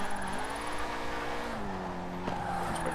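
In the Forza Horizon 4 racing game, a low-powered car slides under the handbrake, its engine droning with shifting pitch beneath a steady tire skid, and a brief click partway through.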